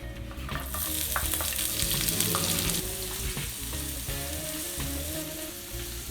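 Chopped ginger and garlic tipped into hot oil all at once, sizzling and frying steadily in a pan with occasional stirring clatter, close and continuous for several seconds.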